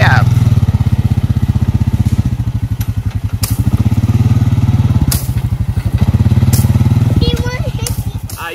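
A loud Rubicon 500 fuel-injected ATV engine runs steadily up close, its low throbbing pulse continuous throughout, with a few knocks and brief voices near the end.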